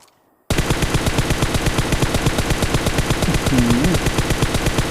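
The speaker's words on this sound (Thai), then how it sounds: "เพื่อนยิงรัวๆเลย" Rapid automatic gunfire in the mobile shooter PUBG Mobile on the Karakin map: loud, sustained bursts of closely spaced shots rattle on almost without pause after a short quiet start.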